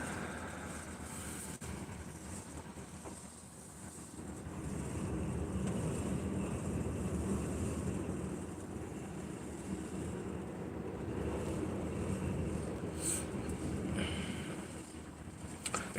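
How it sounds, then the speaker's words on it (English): Strong blizzard wind blowing outside, heard as a low, steady rumbling roar that swells and eases over time, muffled and continuous with no talking. "That wind is still kicking pretty bad outside."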